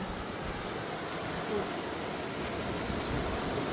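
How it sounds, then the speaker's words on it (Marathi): Rough sea at Kunkeshwar surges close by in a continuous broad roar of breaking waves, steady and loud with no voices over it. "आता सध्या समुद्र ना जो खवळला हे बघा पाणी एकदमच जवळ येला"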